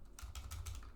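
Quick typing on a computer keyboard, four or five light clicks in an even rhythm within about a second, close and quiet, with no voice.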